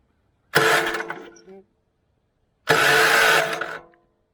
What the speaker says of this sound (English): Got the plug wire on, got the ignition on, and we're gonna bump starter.